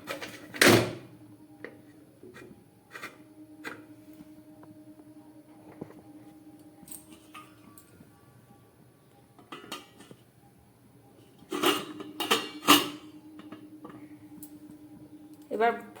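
A metal pizza pan is set onto a stand inside a heated iron wok, giving sharp metallic clanks and clinks in two clusters, close by, with a voice talking in between.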